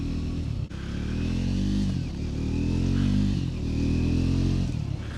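A 2024 Triumph Scrambler 400 X motorcycle engine drones steadily while being ridden, rising and falling through revs with a brief dip early on, loud and close with no talking.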